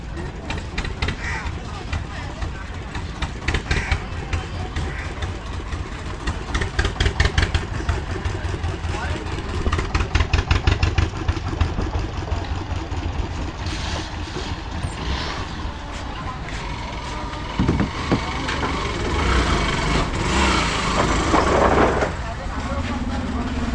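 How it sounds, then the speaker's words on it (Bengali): Ferry launch arriving at the Matiari ferry ghat on the Ganga, its engine rumbling and idling steadily up close amid busy riverside noise and talk. "এখানে লঞ্চ চলে আসলো এই লঞ্চটাই আবার ওইদিকে ঘুরবে"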